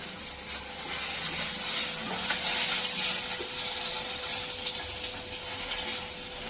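Neem leaves fry in a new frying pan, a loud, continuous close sizzle with scraping stir strokes running throughout, with no voices.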